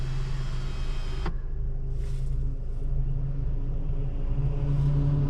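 Mercedes-Benz GLA200 car driving, heard from inside the cabin as a steady low engine and road rumble, with a brief click-like thump early on and faint whooshing passes later.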